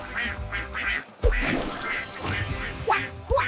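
A cartoon duck quacks in a children's alphabet song, several short quacks spaced through a busy musical mix, close and fairly loud.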